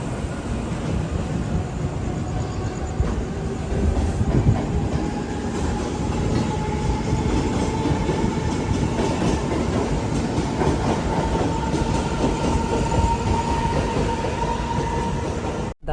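The Siddheshwar Express runs from Mumbai toward Solapur, heard from inside a 3AC economy coach as a steady rumbling roar with rhythmic clickety-clack of wheels over rail joints, continuous throughout.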